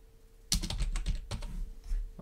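Keys clatter on a computer keyboard while a PowerPoint title is being typed, a quick burst of close, crisp taps with short pauses, no voices.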